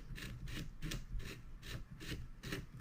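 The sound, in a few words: tightening lock ring on Panzer BP12 shotgun barrel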